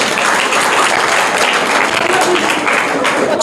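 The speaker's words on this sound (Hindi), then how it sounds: "इनका सही जवाब है, जोरदार तालियां" An audience bursts into loud, vigorous applause for the first-place winner of a quiz contest, a thick, continuous clatter of many hands at close range.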